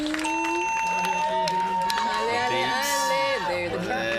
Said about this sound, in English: There the crowd goes